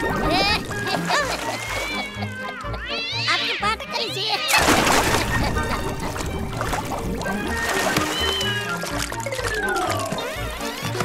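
A cartoon cat meows over dense animated-story sound effects including splashing water during a bath scene, with character voices speaking throughout.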